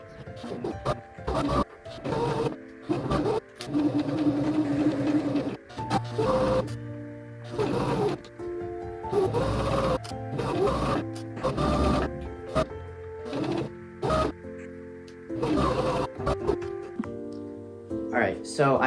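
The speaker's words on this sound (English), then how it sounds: "So I have my sewing machine set up." A sewing machine stitches a big fabric sleeve into a tube for an anime cosplay costume, whirring in short bursts between pauses, with talk in between.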